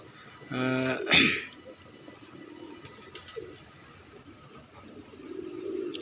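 Pigeons in a pigeon loft give a short, deep cooing call near the start, then a quiet stretch of faint rustling and low background murmur.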